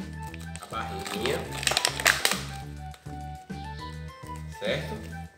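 Material is crumpled by hand to shape the belly of a handmade decorative doll, making crinkling, crackling bursts that come and go over steady background music.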